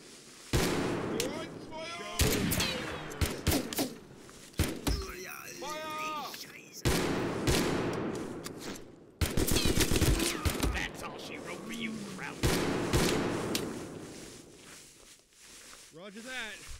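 Rattling gunfire in the war game Mud and Blood, repeated bursts of shots and blasts in uneven clusters, with radio-style voices and chatter mixed throughout.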